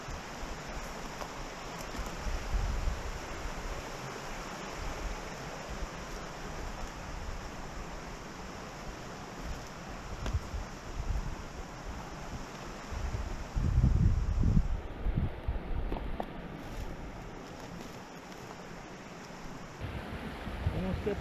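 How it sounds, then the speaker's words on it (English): A small cascading waterfall at Prohibition Falls in Bearcat Hollow rushes as a continuous broadband hiss along a creek on a forest hike, steady and fairly close, with brief louder surges in the middle. "There's a small waterfall up here. It's a beautiful cascade fall."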